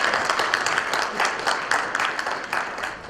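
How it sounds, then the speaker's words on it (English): An audience at a national policy forum on capital campaigns applauds. The clapping is dense and steady, then thins out and fades toward the end. "Let's give one more round of applause for Dr."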